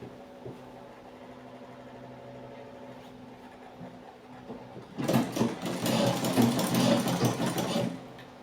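A sewing machine stitches ankara fabric and lining together while sewing a dart on a mini pencil skirt. A fast, steady whirring run starts after a quiet stretch and lasts about three seconds before stopping.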